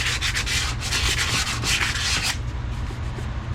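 Hand-scuffing cross hatches into an engine cylinder wall gives a steady, close abrasive rubbing. The scrubbing is strong and rhythmic for about two seconds, then eases into a softer, lighter scuff.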